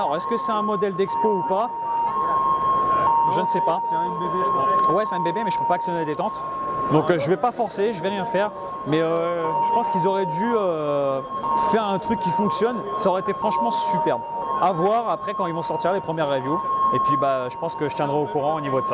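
A steady, siren-like alarm tone drones on throughout a busy firearms and airsoft trade show floor (IWA 2019), sitting beneath continuous close conversation in French.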